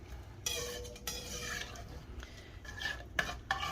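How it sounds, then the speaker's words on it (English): A spoon stirs a thick Irish meat pie filling made with Guinness in a cooking pot, giving several scraping, clinking strokes against the metal with a soft background hum and no talking. "Just going to stir that in, and we're going to let that sit and thicken up for about 20 minutes."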